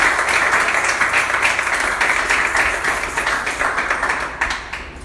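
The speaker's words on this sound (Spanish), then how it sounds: "Den un aplauso al Señor." Church congregation applauding during a Spanish-language sermon, loud sustained clapping with a rhythmic, tapping quality that tapers off toward the end.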